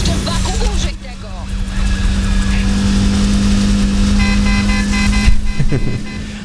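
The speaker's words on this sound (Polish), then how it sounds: "Fajną rzeczą jest tutaj, że mamy też klakson." Car in the racing game Need for Speed Heat, a loud engine drone with horn blasts sounding in short bursts near the end, while people talk over it.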